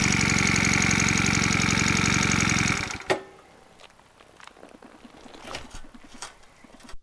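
Regal Raptor DD125E cruiser motorcycle engine running with a steady, buzzing throb for about three seconds, then cutting off abruptly, leaving a quiet outdoor background with faint chirps and clicks.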